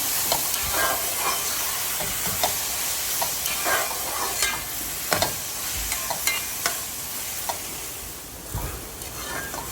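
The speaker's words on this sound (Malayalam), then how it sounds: "മുറിച്ച് വെച്ചിരിക്കുന്ന തക്കാളി തക്കാളി ചേർത്ത് നല്ലപോലെ ഇളക്കി ഇളക്കി ഒന്ന് വേവിച്ചെടുക്കണം" Chopped tomatoes for a curry are stirred in a hot pan, with a steady close sizzle and frying hiss broken by repeated scraping strokes of the spoon, and no talking.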